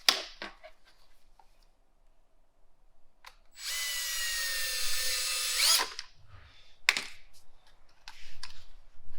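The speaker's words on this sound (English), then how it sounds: "Drill the right piece." A power drill whirs loudly for about two seconds, its motor pitch rising, drilling a hole for an Agile Offroad fender extension, between scattered clicks and handling knocks.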